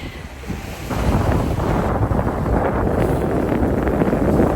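Wind blows across a sailboat crossing the Gulf Stream toward the Bahamas in about 13 knots of wind. A loud, steady wind roar buffets the microphone, with a rushing water wash beneath it and no voices.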